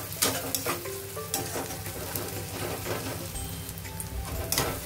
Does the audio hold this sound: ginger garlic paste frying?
yes